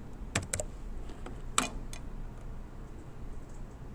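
Sparse, light clicks of typing on a computer keyboard, a few irregular keystrokes with a small cluster near the start and another near the middle, faint over a steady background hum.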